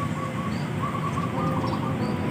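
A silver zebra dove (perkutut), caught on a night hunt, gives faint repeated calls over a steady outdoor background hum.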